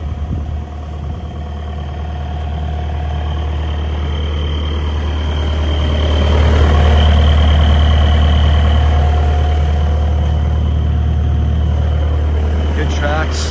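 A 2007 Bobcat 331 mini excavator engine idles with a steady, loud low drone that swells briefly midway, while someone talks over it.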